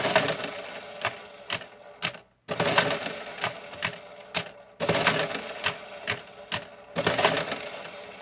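A Monroe KA electromechanical calculator running an addition, a rapid mechanical clatter of repeated clicking strikes in bursts, with two brief pauses of near silence between whirring runs, loud and close.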